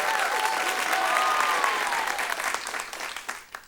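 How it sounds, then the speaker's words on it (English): Audience at a school quiz competition claps for both competing schools, sustained applause that thins into scattered claps and fades out, with a few whoops or whistles early on. "Let's give a round of applause to both schools."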